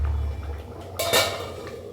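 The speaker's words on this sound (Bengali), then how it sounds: "এটা মেশানোর পর একটু ঢাকনা দিয়ে ঢেকে রাখবো" A metal lid set onto a pot of simmering Bengali ghugni, one brief clanking contact over a steady low kitchen hum.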